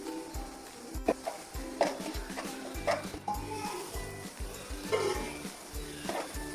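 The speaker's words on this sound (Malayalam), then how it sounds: "നമുക്കിത് തുറന്ന് നോക്കിയിട്ട് ഇളക്കി കൊടുക്കാം" Spoon stirring green peas and potato in a cooking pot for a samosa filling, giving repeated scraping and clinking strokes with a soft sizzle underneath, close and moderately loud.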